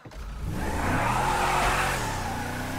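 A car in the video game GTA 5 pulls away: a close engine rises in revs and roars steadily, with a faint tyre squeal, for about three seconds.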